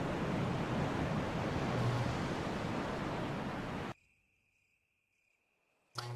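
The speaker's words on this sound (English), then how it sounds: "You can hear the sound of a waterfall in the distance." A distant waterfall roars in a Resident Evil video game, a steady broadband rush that cuts off abruptly into near silence with a faint high tone, then briefly resumes.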